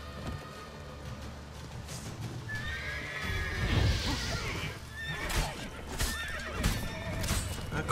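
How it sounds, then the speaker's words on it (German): Horses in The Witcher 3 whinny and neigh repeatedly amid clip-clopping hooves and game effects, several loud, agitated calls rising and falling over eight seconds with no talking. "die Pferde drehen durch"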